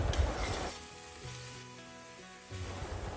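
Vegetables drop into a pan of frying cracked-wheat upma, giving a loud close sizzle that fades, then a quieter hiss with faint scraping, and the sizzle swells again at the end.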